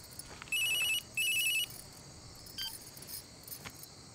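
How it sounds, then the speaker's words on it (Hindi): A phone rings with two bursts of rapid electronic beeping tones, followed by a few faint clicks and rustles in an otherwise quiet room. "देखो तो फोन है किसका।"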